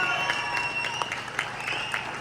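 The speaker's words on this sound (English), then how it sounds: "can everyone give this man a round of applause" A crowd at a car show claps together in a brief, steady round of applause, heard from a moderate distance.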